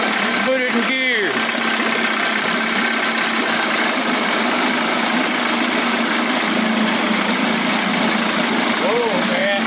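A 25 hp Johnson outboard motor, being converted to 30-35 hp, runs steadily in gear on a test cart, giving a loud, continuous drone throughout with a brief voice near the start.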